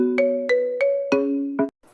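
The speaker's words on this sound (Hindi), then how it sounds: "तुम अपने फोन को 2 मिनट शांत नहीं रह सकते क्या।" A mobile phone ringtone plays loud and close, a repeating electronic melody of five sharp chiming notes that cuts off abruptly.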